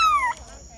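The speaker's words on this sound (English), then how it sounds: "Cat." A cat gives a single short meow, fairly close and moderately loud, its pitch sliding downward before fading into quiet.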